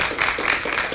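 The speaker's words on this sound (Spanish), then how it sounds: "Quiero que recibamos con un aplauso a doña Odilí Barrantes" A studio audience applauds, a short burst of close, crisp clapping from a small group, fairly steady over about a second.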